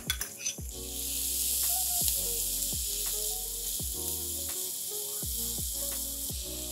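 Finely chopped onions, two large ones, frying with half a teaspoon of asafoetida in two big spoons of oil in a pan: a steady, close sizzle broken by regular scraping clicks of stirring.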